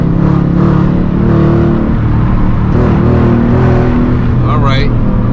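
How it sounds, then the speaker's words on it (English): A Dodge Challenger R/T with a 5.7L Hemi V8 fitted with a Hellcat airbox rumbles and revs, the engine drone rising steadily and loudly at high RPM during a drive, with a person talking over it. "I just want to see what the exhaust sounds like"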